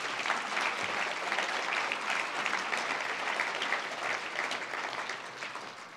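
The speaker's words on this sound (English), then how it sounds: "a round of applause, please" Audience applause at a diplomatic honors gala, a steady full round of clapping from a seated crowd that holds evenly for several seconds and tapers slightly at the end, with no voices over it.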